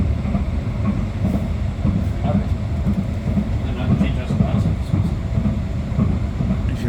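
Edinburgh tram running on rails, a continuous low rumble with rhythmic clattering of wheels over track joints, steady and close, with voices talking over it.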